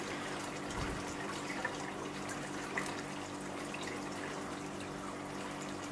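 Water pours steadily from the outlet of an aquaponics siphon fitted with a 25mm to 20mm reducer, a continuous close splashing flow with no voices.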